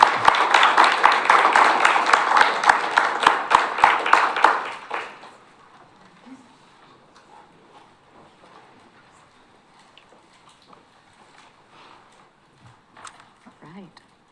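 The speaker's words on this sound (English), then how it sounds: "one more round of applause for Marcy and our community members" Audience applause at a city council meeting, a dense burst of many hands clapping close and loud for about five seconds, then fading into a quiet room with faint scattered sounds.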